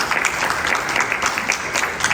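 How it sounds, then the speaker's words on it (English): A panel-discussion audience at an education event applauds steadily, a dense patter of many hands clapping at close range for the whole stretch, with no speech over it. "Can we get a round of applause for our kiddo?"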